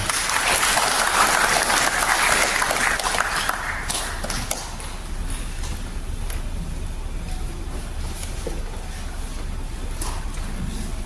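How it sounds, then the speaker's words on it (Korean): Applause from an audience at a memorial service, welcoming a poet who is to read a memorial poem. The clapping is dense and sustained, strongest at the start and then thinning to a steadier patter. "박수로 맞이해 주시기 바라겠습니다."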